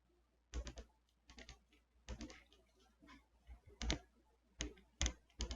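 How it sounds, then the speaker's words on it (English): Soft ratcheting clicks from the hip joint of a Transformers Studio Series Swoop action figure come in several short, close-up bursts with brief quiet gaps between them. "Soft, buttery ratcheting on the hip."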